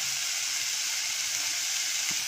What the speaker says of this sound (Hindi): बड़े प्याज मैंने चॉप किए हुए रखे थे उसे डाल देंगे, उसे सौते कर लेंगे अच्छे से